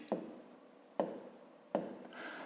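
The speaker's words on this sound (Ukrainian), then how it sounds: "пишемо тоді 25 тисяч" Numbers being written by hand during a long-division exercise: three distinct close pen strokes tapping and scratching on paper, spaced about a second apart, each trailing a soft rub.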